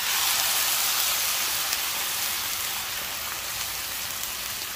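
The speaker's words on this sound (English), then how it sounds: "let's start off by getting our beef onto the flat top cooker here" Beef sizzles on a flat top griddle, a loud, steady hiss and crackle of searing meat that fills the whole stretch evenly and close up, with no talking over it.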